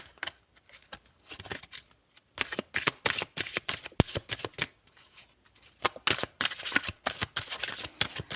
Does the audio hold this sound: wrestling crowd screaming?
no